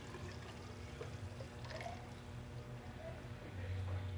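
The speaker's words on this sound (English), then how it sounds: "I pulled a sample out of the tank and I'm going to pour it in here" A fermenting sample from a winery tank poured into a hydrometer cylinder, a soft, close trickle and splash of liquid over a low background hum, ending in a firmer gurgling fill.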